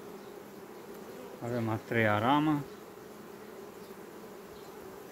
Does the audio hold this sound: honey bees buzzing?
yes